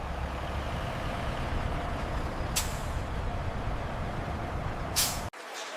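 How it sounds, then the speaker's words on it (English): Heavy trucks departing a chocolate factory, a steady loud engine and road rumble with two sharp hisses of air brakes before the noise cuts off abruptly. "Hundreds of trucks leave the factory daily."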